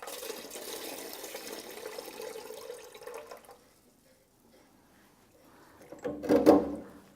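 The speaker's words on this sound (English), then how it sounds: "so we'll release the pressure" Pressure is let out of freshly tested household pipework as a steady rushing hiss of escaping water and air, which fades to near silence before a short louder gurgling burst near the end.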